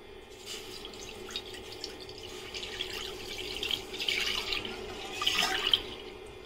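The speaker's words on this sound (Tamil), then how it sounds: "இப்போது இதில் நம்ம பாலை போட்டுக்கலாம்." Milk poured into a wide pan on a lit stove, a steady liquid trickle with faint splashing that grows slightly louder toward the end, heard up close with no talking.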